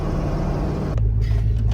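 An old tow truck cruising along an interstate highway, its engine giving a steady, loud close rumble with road noise throughout and no talking.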